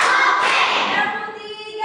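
A class of children claps along in a classroom during a morning clapping game, a dense burst of hands filling the short moment amid voices.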